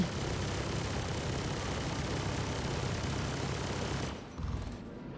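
Sustained, dense gunfire from a Freelancer MAX ship in a space combat game, a steady loud barrage that cuts off after about four seconds, leaving a low rumble and a brief thump.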